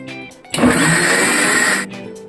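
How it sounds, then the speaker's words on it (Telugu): A mixer grinder grinding punugulu batter whirs loudly for just over a second, starting abruptly and cutting off, with quieter mechanical hum before and after. "మధ్యలో మరి కొంచెం గట్టిగా ఉంటే తిరగదండి మిక్సీ."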